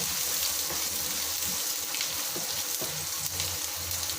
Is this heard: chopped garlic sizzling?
yes